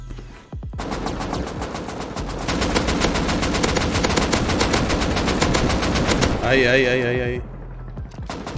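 Gunfire in the video game Rust, a long unbroken automatic burst of loud close shots, with a brief spoken word at the start.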